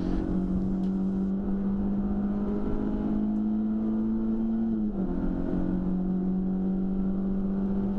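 Ford Fiesta championship race cars accelerate onto the straight at Silverstone, a steady droning engine note that climbs slowly, dips abruptly around a gear change, then carries on, heard from inside or close by with no talk.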